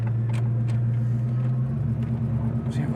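An Oldsmobile Cutlass 442 classic car engine rumbles at idle or low speed nearby, a steady deep drone with a slight drop in pitch partway through.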